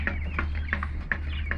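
A pet chicken gives a quick series of short, evenly spaced clucks, fairly faint over a low background hum.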